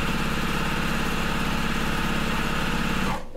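A sewing machine stitching a scant quarter-inch seam on a Churn Dash quilt block, a loud, close, rapid mechanical whirr that runs steadily and then stops abruptly near the end.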